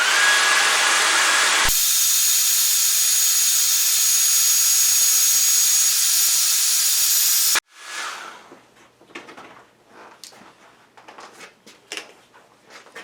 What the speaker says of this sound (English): for a heat source, all I have is this old hair dryer, but it works just as good as a heat gun